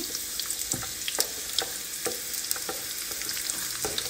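Onion is dropped into a hot frying pan for Cuban-style cod, giving a steady sizzle of frying. Frequent sharp scrapes and taps of stirring against the pan sound close and clear, and there is no talk.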